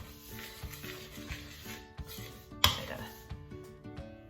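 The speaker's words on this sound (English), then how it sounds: "I always use a spoon to stir first before I put my hands in it." A spoon stirs tortilla dough in a bowl, giving soft, irregular scraping and scuffing strokes with one sharper knock, quiet and close.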